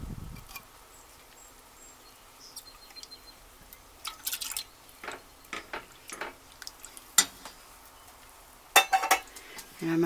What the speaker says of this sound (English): I'm going to stir this until it's well mixed over a low flame